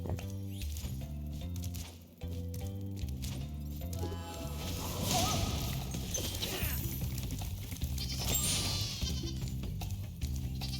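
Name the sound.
sheep bleating in Spyro the Dragon remake video game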